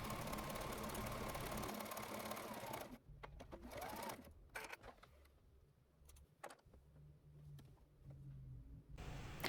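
A sewing machine stitches around the edge of a fabric puppet piece, running in a fast, continuous whir for the first few seconds, then stopping and starting in short mechanical bursts with handling noises.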